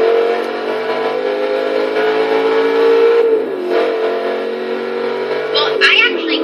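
A Chevrolet Camaro drifts in the racing game Forza Motorsport 6. A loud, sustained engine roar holds, dips briefly as the revs shift, then carries on, with voices talking over it.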